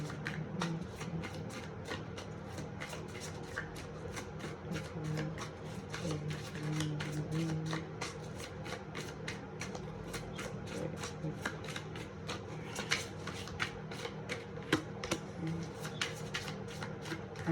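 Tarot cards are shuffled close by in a quiet room, a continuous soft riffle of rapid papery flicks and taps lasting the whole stretch, low in level.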